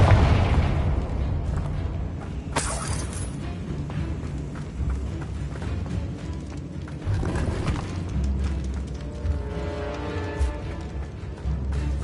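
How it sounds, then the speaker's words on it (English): Confringo explosion spell in the video game Hogwarts Legacy, a deep boom followed by rumbling blasts and crackling bursts over a low game soundscape. "Confringo!"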